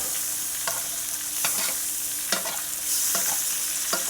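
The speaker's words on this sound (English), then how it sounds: "we're just gonna baste our steak just like that, and allow the butter and all that liquid to cook it up" A steak fries in a pan as melted butter is basted over it: a constant bright sizzle with a spoon scraping and splashing roughly every second, close and loud, with no talking.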